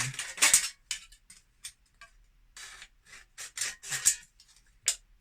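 Scissors snipping through an aluminium soda can, cutting it into four pieces, in a string of short crisp metallic cuts and rasps with brief pauses between them, close and fairly quiet with no talk.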